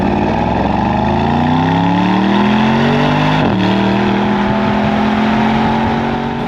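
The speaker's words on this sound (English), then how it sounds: "you can never discount the AMG V8 sound." A 2023 Mercedes-AMG SL63 V8 revs loud and close, its pitch rising steadily, dipping briefly at a gear change, then holding a strong steady drone with no talking.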